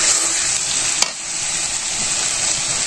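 Village-style chicken curry sizzling steadily in hot oil as water goes into the pan, a dense continuous frying hiss with a brief splash-like burst near the middle, no talking.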